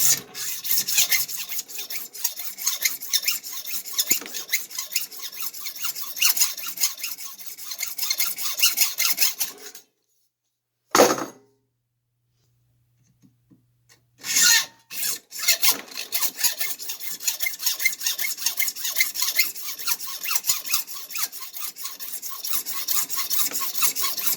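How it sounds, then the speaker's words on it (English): Steady back-and-forth rasping of a hacksaw with a fresh blade cutting through metal lamp pipe, loud and continuous, broken by a short pause of near silence before the strokes resume. "starting off with a nice fresh blade in my hacksaw, I just simply start sawing"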